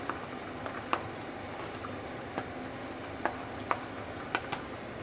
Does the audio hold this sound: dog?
no